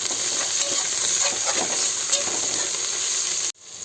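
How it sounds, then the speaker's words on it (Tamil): Mint and coriander leaves sautéing in a pan for biryani, a steady close sizzle with faint stirring scrapes that cuts off abruptly near the end. "அடுத்தது வாசனைக்காக கொஞ்சமாக புதினா கொஞ்சம் கொத்தமல்லி போட்டு ஒரு டூ மினிட்ஸ் வந்து வதக்கிக்கலாம்"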